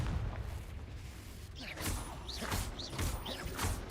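The Confringo blasting curse is cast repeatedly in Hogwarts Legacy. Faint whooshing bursts and thuds repeat in quick succession during combat, set against a low rumbling game backdrop.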